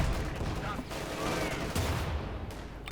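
A .50 caliber machine gun fires in a Company of Heroes 2 battle amid continuous gunfire and explosions, with a commentator's voice running over the dense combat noise.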